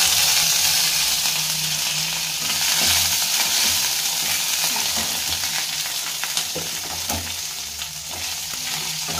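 Curry leaves and dal fry in a pan with a steady, close, continuous sizzle and crackle that holds an even level throughout, with no voices.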